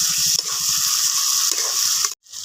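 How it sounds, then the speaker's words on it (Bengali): Cauliflower sautéing with spice paste in a pan gives a steady close sizzle broken by rhythmic scraping stirs, ending with a brief drop to silence. "ফুলকপিকে আমি মশলার সঙ্গে ভালোভাবে কষে নেব।"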